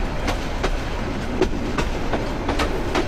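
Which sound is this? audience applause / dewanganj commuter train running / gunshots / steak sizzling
dewanganj commuter train running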